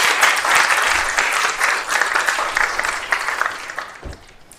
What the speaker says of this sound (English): can we also have a special round of applause for our parish band here, the Evergreen Wind Ensemble